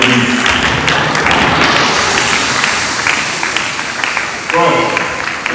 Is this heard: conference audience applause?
yes